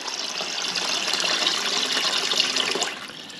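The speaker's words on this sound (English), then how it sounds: "So we'll let it fill up and give it a flush." A toilet cistern fills with water in a continuous close, rushing hiss, with gurgling and trickling running on for several seconds.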